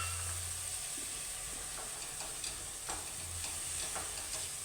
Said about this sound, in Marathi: त्याची पेस्ट घालून ती परतून घेते